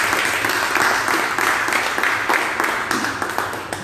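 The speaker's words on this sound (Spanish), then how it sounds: "Aplaude al Señor" Church congregation applauding during a Spanish-language service, a sustained wash of many hands clapping with a few sharper individual claps standing out, fairly loud and steady.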